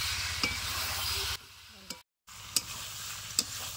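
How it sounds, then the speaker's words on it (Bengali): Fried potatoes are stirred and sautéed in a pan: a close sizzle with scraping taps of a spatula, briefly dropping away to near silence before resuming. "ভেজে রাখা আলুগুলো দিয়ে দিলাম। এইবার 5 মিনিট মতন আবার কষাবো।"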